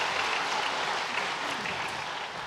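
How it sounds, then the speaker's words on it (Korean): Clapping from a church congregation during a Sunday worship service award segment, a broad even wash of applause, fairly faint and distant, steady and slowly fading toward the end. "박수하겠습니다"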